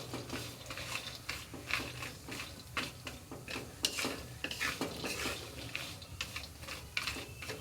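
Almonds and dry fruits roasting in a spoonful of ghee in a kadhai, stirred steadily with a spoon: repeated scraping clinks and taps over a soft, continuous sizzle, close and moderately loud, with no talking.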